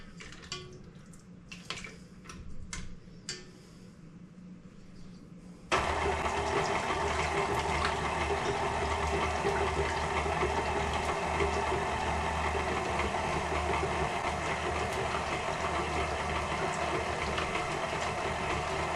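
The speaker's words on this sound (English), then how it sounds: "I'm using a paddle on the mixer" A stand mixer fitted with a paddle attachment, working pasty dough, switches on after a few seconds of quieter background and then runs with a steady, loud motor whir and churning hum to the end.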